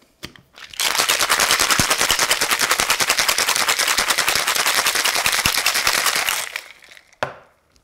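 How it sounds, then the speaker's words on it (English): Cocktail shaker packed with ice, lemon juice and honey ginger syrup for a Penicillin, rattled hard and fast for about six seconds in a loud, steady clatter, then stopped with a final knock. "Now shake until well chilled."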